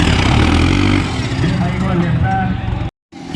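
A New Holland 750 tractor engine runs loud and close, a steady low rumble with a harmonic drone, cutting out briefly near the end, with voices talking over it.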